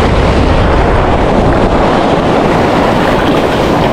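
Ocean wave striking a small fishing boat at sea during the first surge of the southwest monsoon, a loud sustained broadband wash and rumble mixed with heavy wind buffeting the microphone throughout.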